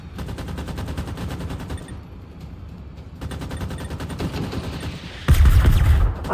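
Sustained machine gun fire from the video game Generation Zero rattles in rapid bursts, dropping briefly into a quieter stretch before a heavier, louder volley near the end.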